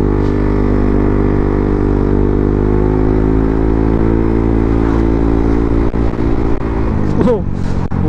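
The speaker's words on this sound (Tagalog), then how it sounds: "Tetesting na natin itong ating motor na bagong change oil." A motorcycle engine with freshly changed Shell Advance Long Ride 4T 10W40 oil drones steadily at speed on a highway, loud and close, its pitch holding then shifting briefly near the end.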